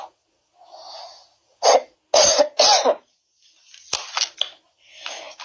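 Several harsh coughs and throat-clearing bursts come close to the microphone, spaced irregularly with quiet breathing between them.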